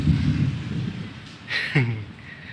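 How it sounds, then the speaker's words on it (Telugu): A low, distant rumble of thunder rolls through the first second, followed by a brief voice and a faint hiss of rain. "ఆ ఉరుములు మెరుపులు"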